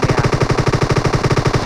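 Rapid automatic gunfire aimed at a buggy in BGMI, a fast, steady stream of loud, evenly spaced shots, about seven or eight per second, with no pauses.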